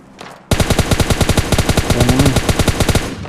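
Rapid automatic gunfire in PUBG Mobile Lite, a loud sustained burst of evenly spaced shots following a brief quieter stretch, loud and close throughout.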